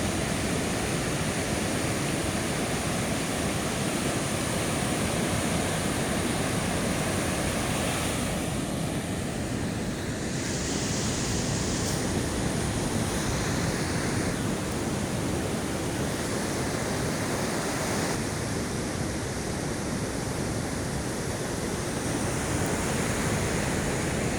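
Ocean surf pounds during Typhoon Kristine, a dense, loud, unbroken roar of crashing waves mixed with wind buffeting the microphone.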